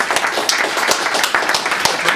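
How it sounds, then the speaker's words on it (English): At the close of a political debate, an audience claps for everybody, a fairly near patter of individual hand claps with distinct sharp slaps in an uneven rhythm, while some talk runs underneath. "A big round of applause for everybody."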